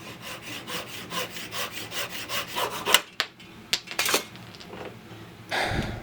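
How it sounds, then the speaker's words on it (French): A hand saw cuts through the wooden base of a handmade pipe in steady rhythmic strokes, close up, then a few sharp knocks and scrapes as the cut finishes, with no talking. "Allez, je vais couper la base."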